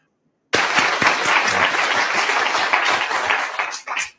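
An audience claps for a speaker, a dense burst of applause that starts abruptly, holds steady and loud, then thins and tapers into scattered claps near the end.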